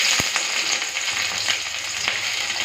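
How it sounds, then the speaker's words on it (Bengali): Chopped onion and green chili frying in hot mustard oil in a kadai give off a dense, continuous close sizzle with a few faint pops and knocks, and no talk. "তেল গরম হয়ে গেছে এখন দিয়ে দিয়েছি পেঁয়াজ কুচি আর লঙ্কা কুচি"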